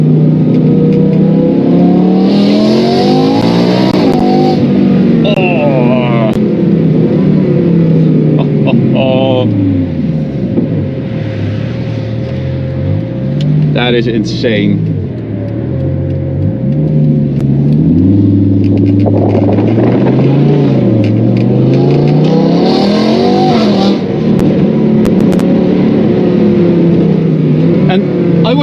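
A loud V10 engine in a BMW M3 E46 with DCT gearbox revs and accelerates repeatedly through the gears on the autobahn, heard through a slightly open window, rising and falling in pitch, while a voice speaks briefly over it.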